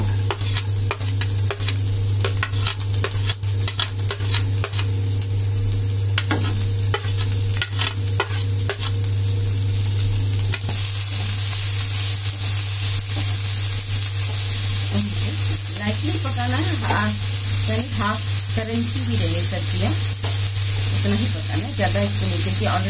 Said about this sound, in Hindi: तेल हमारा गर्म हो चुका है, इसमें सारी सब्जियां डाल देंगे।